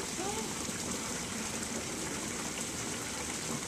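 Pond waterfall pouring into a backyard garden pond, a steady broadband rush of falling water that stays even and close throughout.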